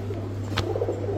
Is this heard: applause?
no